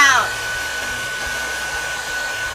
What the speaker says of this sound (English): You want to take a blow dryer and on cool,